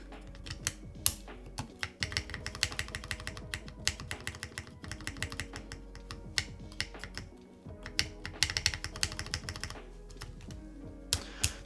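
Clicky keystrokes on a Lofree Hyzen mechanical keyboard come in quick irregular bursts with brief pauses, close and fairly quiet, with some stabilizer rattle.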